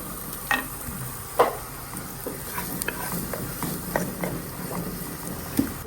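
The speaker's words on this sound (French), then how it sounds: "On va les faire rissoler dans de l'huile d'olive." Sliced onions sizzle in olive oil in a pan, a steady soft frying hiss broken by a few scrapes and taps from stirring, heard close up at moderate volume.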